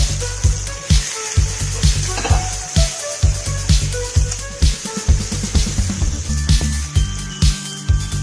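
Prawns for Kerala prawns roast fry loudly in hot oil in a pan, a constant close sizzle broken by regular thumping stirs and scrapes, with a little talk underneath.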